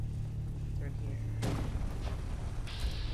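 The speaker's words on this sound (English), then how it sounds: "With the explosions." Explosions in Fallout 4: a pair of deep, broadband booms, one loud at mid-clip and another shortly after, rumbling over steady low background game noise.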